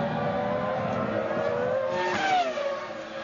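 Michael Schumacher's Formula 1 car at the 2003 United States race pulling away toward a pit stop, a high engine whine climbing and then falling off, heard alone over a continuous circuit roar.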